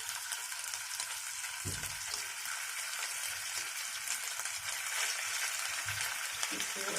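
Chicken stick kebabs fry in hot oil with a loud, continuous sizzle that stays dense throughout, with an occasional soft thud of something being moved in the pan.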